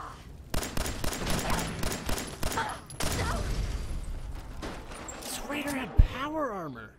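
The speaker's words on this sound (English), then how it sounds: "Opening fire." Rapid bursts of gunfire crack through a Fallout 4 firefight against raiders, dense volleys in the first seconds easing into scattered shots, with someone talking over the game sounds.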